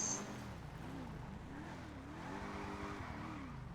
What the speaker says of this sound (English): Oof. And I'm skidding too.